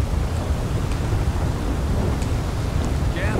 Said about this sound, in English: this storm is hella loud, bro